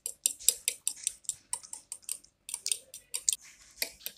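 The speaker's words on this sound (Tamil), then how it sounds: "இதேமாதிரி நல்லா மிக்ஸ் பண்ணி விடுங்க" Egg beaten with oil and salt in a bowl, a quick run of light clinking, tapping strokes from a utensil against the bowl, close and fairly soft, with no talk.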